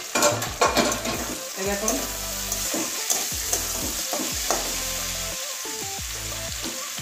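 Flat beans frying in oil with Maggi masala: a constant sizzle with spatula scrapes and pan knocks, while someone talks over it.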